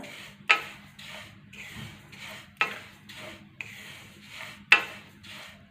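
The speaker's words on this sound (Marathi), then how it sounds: "आता आपल्याला असेच तीळ मस्त भाजून घ्यायचे आहेत" Sesame seeds roasting and being stirred in a kadhai, a soft steady scraping rasp with sharper scrapes recurring about every two seconds, close up and alone.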